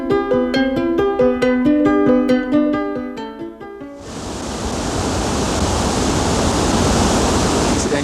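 Lava Falls, a major rapid on the Colorado River in Arizona, roars as a loud, steady wall of rushing whitewater that swells in suddenly after several seconds of music and then holds on without a break.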